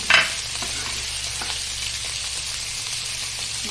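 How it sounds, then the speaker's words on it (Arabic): Cabbage frying in hot olive oil in a pan, a sharp burst as it hits the oil and then a steady, loud, close sizzle with faint stirring scrapes. "في مقله سخونه غنضيف شويه زيت الزيتون، وغنبدا بالكابيت هو الاول نشحرو"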